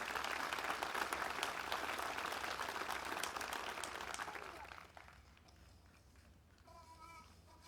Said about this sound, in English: how about a round of applause to all our veterans one more time?